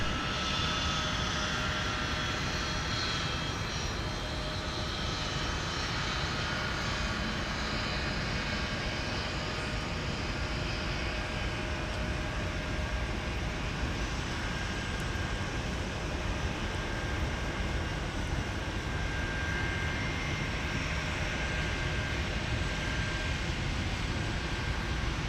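A Delta airliner jet at Minneapolis–St. Paul airport in winter gives a steady, broad engine roar that stays constant and fairly distant throughout, with no talk over it.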